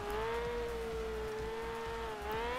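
A Toyota GT86 drift build in CarX Drift Racing, its engine held at high, steady revs as the wheels spin on an icy road, with a sustained droning whine that dips briefly near the end, no talking.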